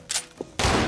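Gunshots from the video game Anger Foot: a couple of short bursty shots followed by a louder, dense blast, all within a second and with no talk.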